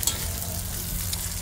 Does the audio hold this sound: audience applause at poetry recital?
no